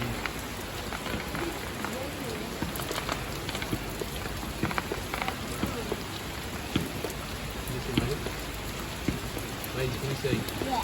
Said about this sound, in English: Oh my god, it's really raining now.